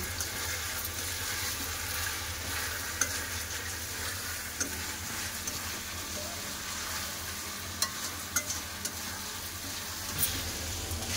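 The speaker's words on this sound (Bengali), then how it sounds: "পেঁয়াজ আর মাংসটা ভালো করে ভাজা করে নেব" Steady sizzling of onions and chicken frying in a pan, with faint stirring scrapes and occasional soft clicks, constant and close throughout.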